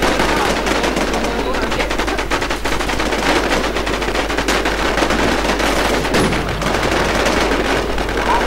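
Rapid sustained gunfire in the Infestation video game, dense machine-gun bursts that stay loud and close for the whole stretch, with a dense wash of game noise behind.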